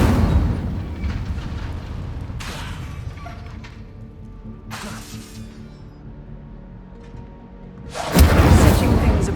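A fiery Incendio spell blast from Hogwarts Legacy erupts as a loud burst near the end, after a stretch of rumbling crackle with a few sharp bursts, heard alone without talk.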